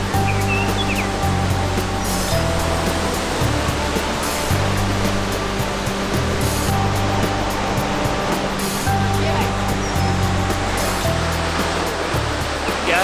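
Waterfall in Yosemite National Park, a continuous loud rushing roar of falling water heard up close with no talking.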